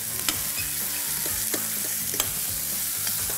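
Tomato juice sizzling in a pan during braising, an even close hiss punctuated by a few sharp spoon scrapes spaced about a second apart.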